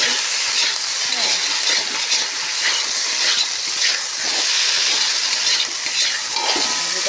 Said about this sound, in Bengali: তো এই যে কাঁচা কলা, পটল, আলু সব কিছু মিলে একটা ভাজি বানাচ্ছি।